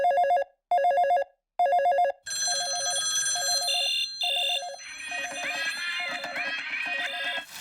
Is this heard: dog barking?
no